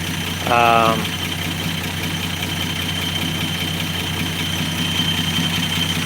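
A 1965 Dodge Dart's 225 cubic-inch slant-six engine idles with a low, steady rumble that holds evenly throughout, briefly joined near the start by a short tonal burst above it.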